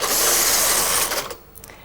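The carriage of a Brother KH950i knitting machine slides across the needle bed with a loud, steady whirring rasp for about a second, then trails off into a few faint clicks.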